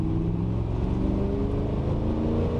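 A 350 bhp Ultima Sportster, a Le Mans-style road car, accelerates hard with a loud, close, steady engine roar and deep low rumble, no talking over it.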